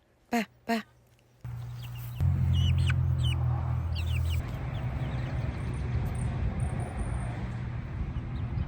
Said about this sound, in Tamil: எங்களோட கருங்கோழி எல்லாம் வீட்டுக்கு வெளியில் நின்று மேய்ஞ்சோடு நிற்கிறோம்